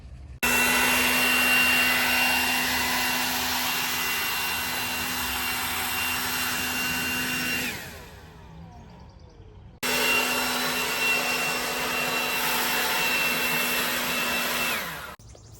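A vacuum cleaner runs loud and steady while tidying for a garden tour, with a constant whine that shuts off and winds down, pauses briefly, then starts up again before cutting out once more.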